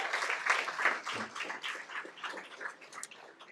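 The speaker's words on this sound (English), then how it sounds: "Let's give them a round of applause one more time." Scattered applause from a small audience at a school board meeting, soft and uneven, with individual claps rising and falling rather than forming a dense wash.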